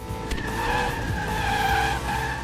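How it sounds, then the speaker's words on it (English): A car drifts and skids through a race in the video game Split/Second, tire squeal sustained and loud over a steady engine roar for the whole stretch. "So let's drift outside this."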